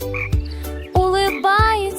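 A frog leaping from a misty swamp onto logs croaks in three loud, close calls, each a buzzy throaty burst, standing alone over a low steady background hum.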